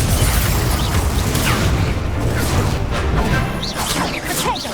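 Confringo blasting spells in Hogwarts Legacy erupt in a dense run of loud booms and crashes, one burst after another with bright whooshing crackles, close and continuous.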